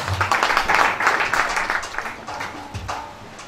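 A church congregation applauds, a loud crowd clapping that swells early and slowly fades over a few seconds.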